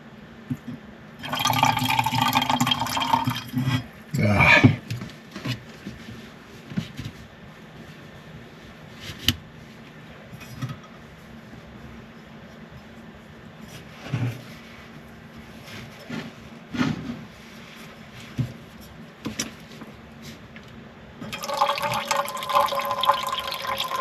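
Liquid poured over a cloth laid underneath, in splashy bursts at the start and again near the end, with quieter clinks and rustles between.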